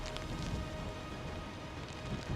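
Faint, steady rain falling outdoors in the mountains near Banff, Canada, with an east wind, a soft continuous patter and low rumble and no voices.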